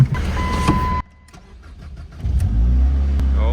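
A 2007 Ford Focus donation car with worn motor mounts cranks briefly, goes quiet for a moment, then its engine catches and settles into a steady idle.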